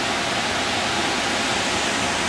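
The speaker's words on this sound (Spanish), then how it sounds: "Y por aquí baja el río." A river running down near the Bujaruelo campsite in the Pyrenees, a steady, loud broadband rush of flowing water that holds constant without pause and with no voices over it.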